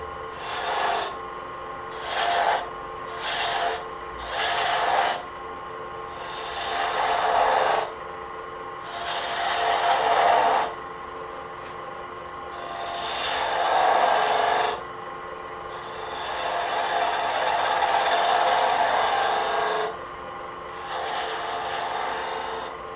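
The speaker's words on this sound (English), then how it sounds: "And I think I may do that with my detail gouge." Detail gouge carving wood for a baby rattle, giving repeated rasping, scraping strokes in short bursts, then longer sustained passes, close and steady with no talking.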